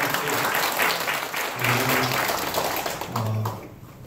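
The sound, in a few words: congregation applause in a church service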